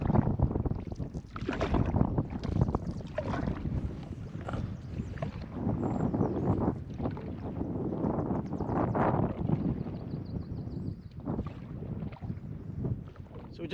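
A canoe glides across a lake, its paddling and water sounds blended into a steady low rumble with wind buffeting the microphone. The sound is close and continuous, and faint voices are heard now and then.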